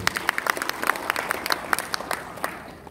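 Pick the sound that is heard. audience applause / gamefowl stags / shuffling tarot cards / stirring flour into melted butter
audience applause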